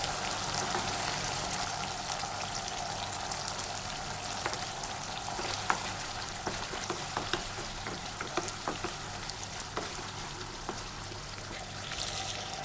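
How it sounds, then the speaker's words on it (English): A pan of tomato sauce bubbles and sizzles steadily, a constant hissing cook with intermittent soft pops and a few scraping stirs, close by and uninterrupted. "Now the tomato paste is boiling very well."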